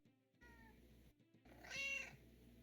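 A cat meows a few times at moderate volume, with one clear meow standing out over a low background hum and no talking.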